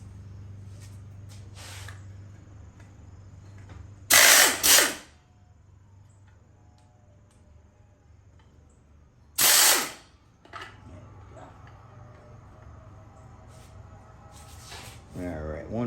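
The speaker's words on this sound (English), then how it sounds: "take a 7/16 socket and zap that muffler out of there" A power tool fitted with a 7/16 socket spins loose the muffler bolts on a 2000 Craftsman 22-inch mower, giving two short, loud whirring bursts separated by quiet handling noises and a low background hum.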